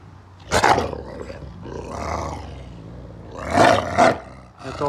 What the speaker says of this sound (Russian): Ты что, лаять уже начинаешь, Акела?